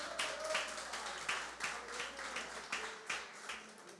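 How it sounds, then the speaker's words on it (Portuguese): A congregation at a Sunday church service claps together, forming a quiet but sustained patter of many hands that rises and falls in small waves, with no speech over it. "Já aplaudiu o Senhor então?"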